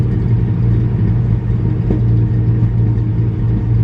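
A car engine idles after timing and idle air control valve adjustments, producing a steady, loud low rumble with an even throb and no voices.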